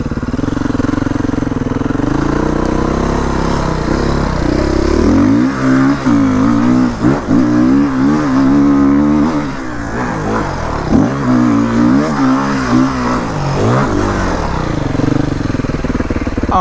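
Two-stroke or four-stroke dirt bike (YZ250, KTM 250 XC or Beta 480rr) tackling a hill climb on Brushy Mountain, engine loud and close, droning steadily then revving hard in repeated rising and falling surges.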